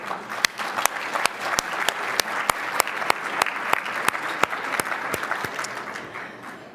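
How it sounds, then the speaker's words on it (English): A luncheon audience at a winter meeting claps for the event's sponsors, steady, fairly loud applause with sharp individual claps standing out, sustained for several seconds with no talk over it. "let's give them a round of applause"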